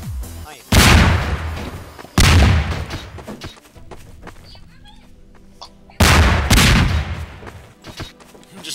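Melon bombs exploding in the video game Garry's Mod, several loud booming blasts going off in quick bursts with quieter game noise between them.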